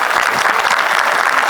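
Loud, dense applause from a seated audience at a Hindi poetry recitation, steady clapping filling the whole short stretch with no voices over it.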